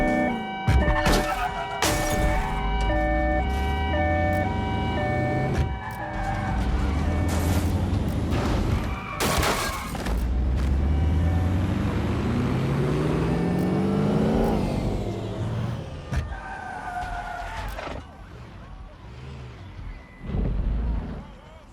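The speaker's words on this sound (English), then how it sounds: "Ready to ram the vehicle." Car engines roar and rev through a vehicle chase in the video game Watch Dogs: Legion, broken by several loud, sharp crashing impacts as one car rams another, with the engine note rising and falling throughout.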